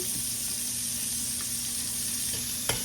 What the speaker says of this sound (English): Just sauteing them a little bit and a little bit of that oil that I left here in the pan